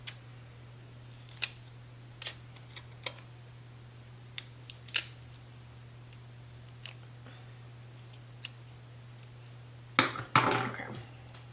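Scissors snip paper in a few sparse, sharp cuts spread out over a quiet steady hum, ending in a longer rustling cut, close by with no talking.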